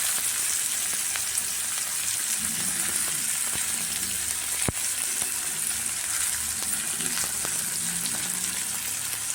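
Onion, green chilies and curry leaves fry in hot oil for a cowpea dish, a steady dense sizzle close up with faint stirring clicks and one sharp tap, with no talk.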